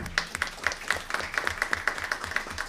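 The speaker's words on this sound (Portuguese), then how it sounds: "uma salva de palmas" Scattered clapping from a small audience at a public hearing on combating discrimination, sparse individual claps in an uneven rhythm, moderately faint and heard alone.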